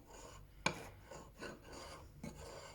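A Japanese waterstone has its back scraped clean, producing a rough rasping scrape with one sharp initial scratch followed by several quieter grinding strokes, close and faint.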